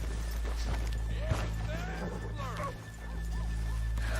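A horse whinnies and snorts close by in the video game Red Dead Redemption 2, over a low steady hum, with soft hoof clops and someone talking briefly.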